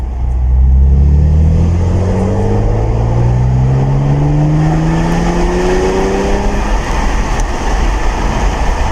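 An Audi S5 coupe accelerates in normal drive mode, its engine and exhaust rising in a smooth, loud climbing drone as the revs build alone without talk.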